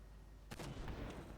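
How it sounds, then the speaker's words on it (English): An incoming artillery round in the tank game Armored Warfare, a sudden sharp impact crack that rolls into a rumbling boom and a faint later echo, heard against a steady low engine drone. "That's probably an artillery round coming in for me."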